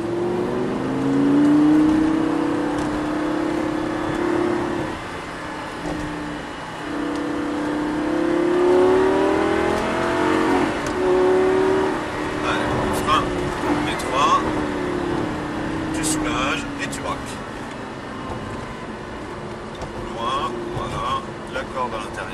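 A Lamborghini LP 560 or Porsche GT3 RS accelerates out of a corner, its engine note rising and sweeping steadily, heard under continuous French-speaking narration.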